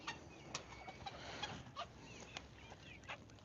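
Chickens cluck in a farmyard in a faint, scattered series of short calls with soft rustling between them, without anyone talking.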